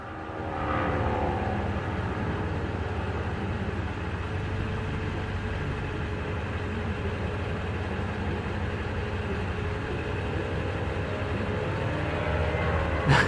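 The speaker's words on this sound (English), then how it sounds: "this guy is literally flying a parachute plane" Powered parachute aircraft flying overhead, a continuous droning engine tone that stays fairly steady and moderately distant, with no talk over it.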